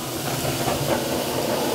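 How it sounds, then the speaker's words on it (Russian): Carrot and other vegetables frying in a pan for a pumpkin bolognese with turkey, giving a steady, dense sizzling hiss throughout, close and moderately loud with no talking. "Помогаем жариться нашим овощам."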